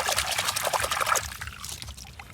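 Water pours steadily into a container holding small toy cars, a close, continuous splashing trickle that thins out toward the end.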